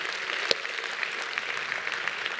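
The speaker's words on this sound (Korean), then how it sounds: "우리 한번 모든 영광을 하나님 앞에 큰 박수로 올려드립니다." A church congregation at a Sunday service in Queens breaks into broad, sustained applause, a soft, even roar of many hands that carries on without a pause.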